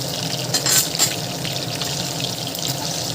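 Curry leaves, green chillies and cashews sizzle in hot oil for a mushroom masala curry, a steady, close hiss with a few brief crackling spikes and no talking.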